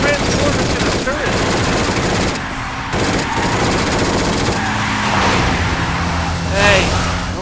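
Rapid turret gunfire rattles continuously in the video game Binary Domain, loud and dense with brief gaps, while voices talk over the shooting.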